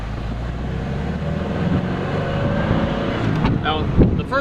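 A 1960 Porsche 356 Roadster pulls away, its engine a low steady rumble mixed with wind buffeting on the microphone, with a faint rising whine toward the end.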